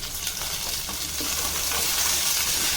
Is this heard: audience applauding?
no